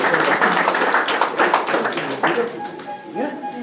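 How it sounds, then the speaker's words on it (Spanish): Brief burst of clapping from a crowd at a patron saint festival during a religious celebration, fading out after a couple of seconds as a voice and other sounds carry on. "Un fuerte aplauso."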